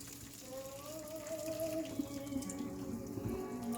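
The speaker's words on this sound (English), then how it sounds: "And now I'm going to pour it into a colander." Cooked fusilli pasta and its water poured into a colander in a kitchen sink, giving a steady rushing, splashing flow that holds at an even level for several seconds.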